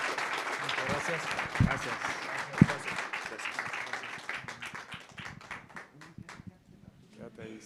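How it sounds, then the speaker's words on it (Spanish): An audience claps for three speakers at a Mexico City talk on finance with purpose. The applause starts full and steady, then thins into scattered claps and fades, with a voice briefly saying thanks over it. "Un aplauso para los tres."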